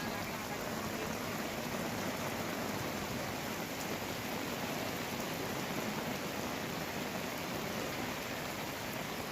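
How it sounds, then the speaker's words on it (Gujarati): Heavy monsoon rain pours steadily over rural Surat near Bardoli, a dense, even hiss of downpour with no breaks, fairly faint and uniform across the whole stretch. "સુરતમાં ગ્રામ્ય વિસ્તારોમાં ધોધમાર વરસાદ પડી રહ્યો છે"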